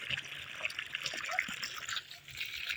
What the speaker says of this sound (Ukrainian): Так, отак от заливаю, друзі і все впитається